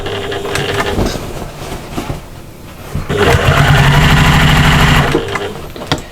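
A sewing machine runs steadily, stitching the outer fabric of a cross-body bag to its lining around the top edge, with a loud continuous motor whir that dips briefly before surging again and easing off.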